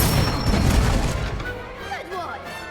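An Incendio fire spell is cast in the video game Hogwarts Legacy, a dense burst of whooshing, crackling flame, followed by fading sparkling tones as the effect dies away.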